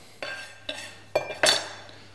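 A knife chops herbs small on a cutting board in a kitchen: four sharp, separate knocks, close, the last two in quick succession, with no talking.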